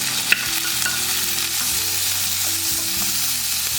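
Garlic and ginger frying in oil in a kadai for Chettinad country chicken curry hiss with a strong, constant sizzle, marked by a single sharp clink near the start.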